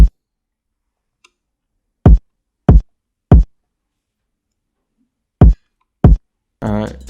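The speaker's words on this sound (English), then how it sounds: "And then I added a kick on top of the 808." Punchy kick drum hits layered over a trap 808 in a hyperpop beat: several short, hard, isolated thumps spaced irregularly, loud and close, followed at the end by a brief burst of talking.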